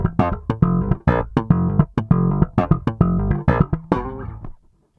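An Alembic bass guitar on its neck pickup with the filter closed plays a steady run of plucked notes with a warm, rounded tone, close and unaccompanied, fading out at the end.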